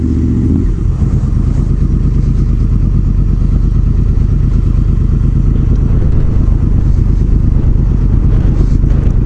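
A Honda VFR800 motorcycle roars loudly and continuously while being ridden on the open road, its close, throbbing engine note holding steady with a slight rise after the first second.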